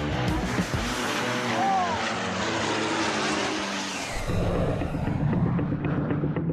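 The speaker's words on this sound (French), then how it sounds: "Ils sont suivis du CASA, l'avion d'accompagnement militaire" A CASA military escort propeller airplane drones loudly and continuously, its engine roar shifting in tone midway as it passes near an air base.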